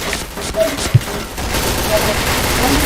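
Gunfire in the online shooter Point Blank comes as a short burst of rapid shots under a busy game soundscape, with one sharper crack standing out.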